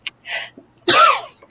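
A person sneezes during a live jewelry auction stream: a short sharp intake, a brief pause, then one loud, forceful burst close to the microphone.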